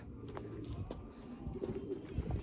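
Pigeons in a backyard coop coo softly with low, throaty calls, a few birds near and mid-distance over faint ambient noise, no talking.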